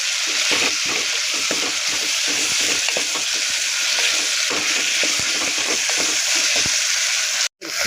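Tomatoes sauté in an oiled pan for a coconut-milk (thengai paal) biryani: a loud, constant close sizzle broken by quick scraping strokes of a spoon, ending with a sudden short gap.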